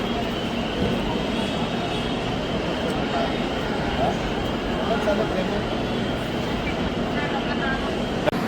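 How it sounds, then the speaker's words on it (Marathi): A train's steady, loud rumble fills a station platform as it arrives at Mumbai Central, with a murmur of people nearby and no break in the noise. "अभी इस सामने हमारी ट्रेन आई है"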